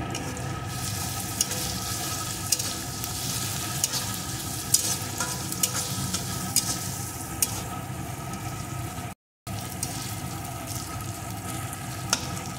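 Crushed garlic and ginger frying in oil in a pan, a continuous dense sizzle close by with scattered crackles and light pops, briefly cutting to silence before resuming.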